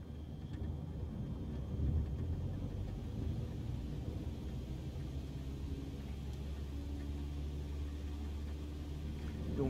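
Cessna 172 engine in Microsoft Flight Simulator rising in power on the takeoff run over Pattaya, a steady loud low rumbling drone that holds throughout without a break.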